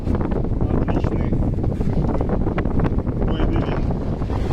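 Steady, loud wind of about 13 at sea aboard a sailboat between Tenerife and Gran Canaria roars across the microphone with a broad rushing texture, a voice faintly mixed in underneath.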